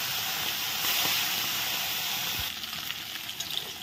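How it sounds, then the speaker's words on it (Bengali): Rohu fish pieces frying in hot oil give off a steady, dense sizzling hiss that stays even throughout, easing slightly near the end, with no talking. "মাছগুলো হালকা করে ভেজে নেব।"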